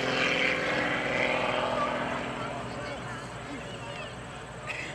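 An MX2 two-seater aerobatic propeller airplane in flight gives a steady engine drone that fades slightly, with someone talking over it.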